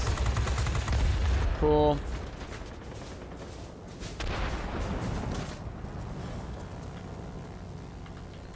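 Machine guns of a He 100 D-1 fighter rattle in World of Warplanes, a dense burst of rapid fire under engine drone that cuts off abruptly, leaving continuous aircraft noise with brief talk.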